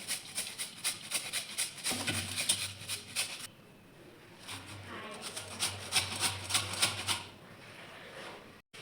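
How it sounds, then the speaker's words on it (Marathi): Peeled potatoes are rubbed down a hand grater in quick, rhythmic scraping strokes, in two bursts separated by a short pause. The scraping is fairly close and moderately quiet. "ही किसणी घेतली मी. आता लंब लंब किसून घेणार आहे."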